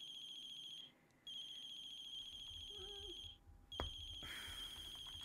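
A telephone rings inside a horror video game in repeated electronic bursts with short pauses between them, fairly quiet against a low ambient background, with a brief thud partway through.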